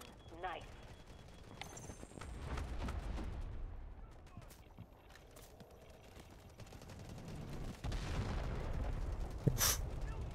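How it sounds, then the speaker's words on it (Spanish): Explosive booms and gunfire-like bursts from Delta Force: Hawk Ops, dense and chaotic, with a sharp loud blast near the end over a steady rumbling background. "No sé qué son esas explosiones, pero están buenas"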